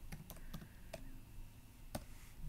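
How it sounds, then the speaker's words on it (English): Computer keyboard keys are typed at a desk while entering a word for a candle label design, a quick irregular burst of close clicks with short pauses between keystrokes. "I'm going to take off caps lock, and I'm going to type in pineapple"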